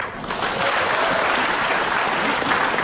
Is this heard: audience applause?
yes